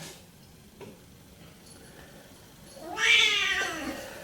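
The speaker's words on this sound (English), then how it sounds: "this is my kitten. It makes a lot of noise." After quiet ticking background, a kitten lets out one loud, drawn-out meow close by near the end.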